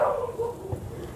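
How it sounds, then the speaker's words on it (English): A dog barks at someone outside the door indoors, a short pair of yapping barks followed by a softer whimpering bark, moderately close. "Please don't mind the barking. He's found someone outside the door, I guess."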